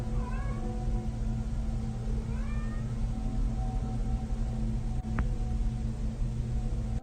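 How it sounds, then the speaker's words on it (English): A cat meows several times, rising cries over a steady low hum and broadband background noise, captured on a phone at night in a bedroom. "her cat is meowing, like it's looking for its companion"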